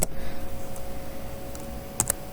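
A few light keystrokes on a computer keyboard typing an equals sign, soft quick taps with two sharper clicks close together near the end, faint and near with no talk.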